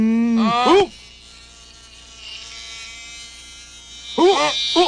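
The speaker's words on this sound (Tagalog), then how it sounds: "Saklolo! Hinahabol ko ng bubuyog!" A cartoon bee buzzes in the Tagalog-dubbed Doraemon, a steady thin drone sustained between loud shouting voices at the start and end.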